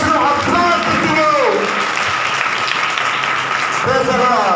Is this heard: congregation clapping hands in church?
yes